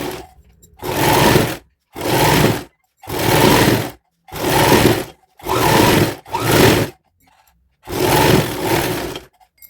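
A sewing machine runs long gathering stitches on a child's sharara outfit in seven loud, even bursts separated by short pauses, with no talking.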